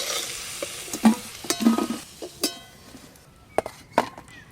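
Hilsa fish pieces fry in oil in a pan with a steady low sizzle. Several distinct spatula knocks and scrapes stand out against it, and no one speaks.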